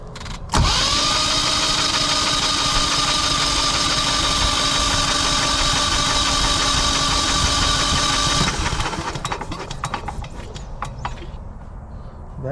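A Generac generator engine cranks steadily for about eight seconds during a compression test, a loud droning starter whine with a fixed pitch. It then stops and gives way to scattered clicks and handling noises.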